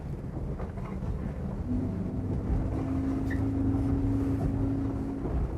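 A low motorboat engine rumbles steadily on a Saxdor 400 GTC sportsboat at sea, its drone building slightly as it gains speed, with a steady wash of wind and water noise.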